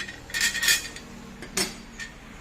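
Small metal bracket pieces and nuts clinking and rattling as they are handled while fitting a rear top box onto a motorcycle, a few short bright jingling bursts close by, then a pause and two lighter clinks.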